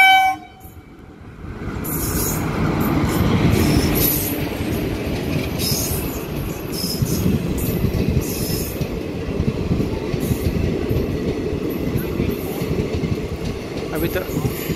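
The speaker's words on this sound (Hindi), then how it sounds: "देखिए बिहार शरीफ जंक्शन पर राजगीर दानापुर राजगीर तिलैया पैसेंजर आते हुए" Rajgir–Danapur–Tilaiya passenger train arriving at Bihar Sharif Junction in Bihar, with a loud horn, rumbling wagons, clattering wheels and squeals, continuous and close throughout, with brief voices underneath.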